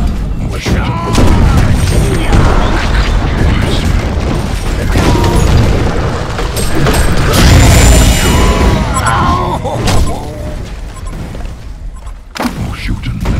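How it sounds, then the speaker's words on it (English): Flint Beastwood's hand cannon firing in Heroes of Newerth, heavy booming shots and bursts amid busy game effects, loud and repeated, with some voices in the mix. "More shooting, less running."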